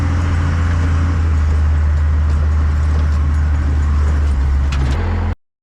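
An early first-generation Cummins 12-valve diesel idles steadily in a 1990s truck, a loud, low, continuous rumble with a mechanical clatter that cuts off abruptly at the end.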